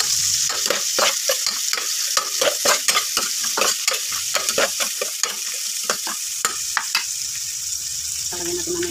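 Onion and ginger sauté in hot oil for chicken tinola, a steady sizzle broken by repeated scraping stirs of a utensil against the pan, close and clear.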